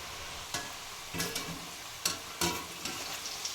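Masala peanuts go into hot oil a little at a time, giving a steady soft sizzle of frying broken by several sharp bursts as pieces drop in or are stirred.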